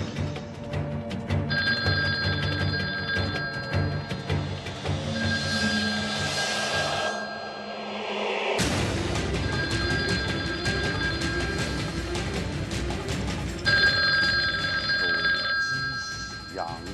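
A mobile phone rings loudly in repeated electronic bursts, ringing for a stretch, pausing briefly, then ringing again, in a staged test of whether a phone can set off a blast, with some background commotion.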